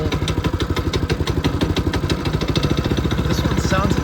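A small 224cc minibike engine idles with a rapid, deep, lumpy putter, steady and close, a faint higher whine creeping in near the end.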